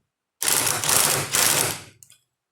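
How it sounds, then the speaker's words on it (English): An impact wrench tightening a U-joint during replacement gives a few close, loud rattling bursts in quick succession, then stops. "I give it a couple of zips with the impact just to make sure that it's tight."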